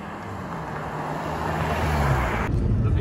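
A 2015 Mercedes C200 petrol seven-speed automatic accelerates briskly, broad rising engine and road roar from inside the cabin, growing louder before a sudden shift in tone near the end.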